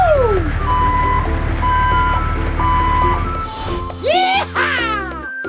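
A cartoon toy truck's reversing alarm beeps evenly four times over a rumbling engine, then playful whooping voices and sliding whistle-like tones take over near the end.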